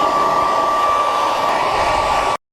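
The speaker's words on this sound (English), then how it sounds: "Take the wife's hairdryer and keep it 4 to 6 inches away from this" A hair dryer blows loudly and steadily at close range with a constant whirring hum, heating plastic window insulation film, then cuts off abruptly.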